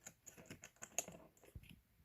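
Quiet, rapid light clicks from a homemade coin counter built from a calculator, each coin drop triggering a tap, forming an irregular string of small plastic clicks close up.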